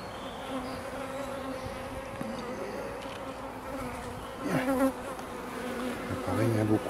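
A honeybee colony buzzes steadily as frames are lifted out of the hive, a dense, even drone close by that swells slightly near the end, with no talking over it.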